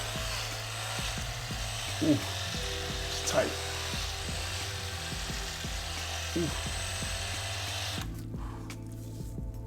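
A drill spins a rotary brush through a beard to straighten it, a steady whirring motor with tugging strains as it catches knots, then cuts off; someone speaks briefly over it.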